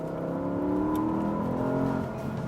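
A 2017 Porsche Panamera Turbo accelerates hard, its engine note rising loud and close through the gears for a couple of seconds.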